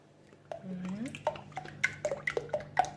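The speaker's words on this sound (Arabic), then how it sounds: "غادي ندير نص سيترون، بسم الله" Half a lemon is squeezed by hand into cream for a rolled cake, producing soft, quiet squishes and a few small drips, with faint voice-like sounds in the background.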